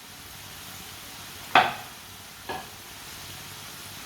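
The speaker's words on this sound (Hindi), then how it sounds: "इसे 2-3 मिनट के लिए फ्राई होने देते हैं" Potato chips fry in oil over a medium flame, a steady soft sizzle with two brief louder clinks or stirs partway through, no voices.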